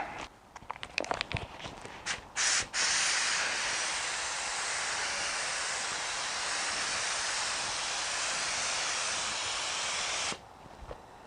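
Spray gun laying a third and final coat of paint on a BMW E46, a loud steady hiss held for several seconds after a few clicks and short bursts, then cutting off.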